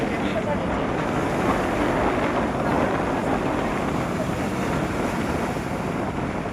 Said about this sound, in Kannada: ಎಷ್ಟು ಮೆತ್ತಗೆ ಹೋಗುತ್ತೆ ಬೋಟ್ ಸೌಂಡ್, ಎಷ್ಟು ಕ್ಲೀನಾಗಿ ವಾಟರ್ ಸೌಂಡ್ ಎಲ್ಲ ಕೇಳಿಸ್ಕೋಬೋದು